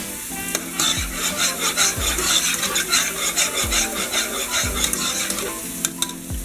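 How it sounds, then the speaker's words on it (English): A spoon stirs coconut curry fish stew in a pot, giving steady scraping strokes in a repeating rhythm over a continuous soft sizzle and bubbling, close and clear with no talk. "make sure that you're watching it and you continue to stir it so it doesn't burn"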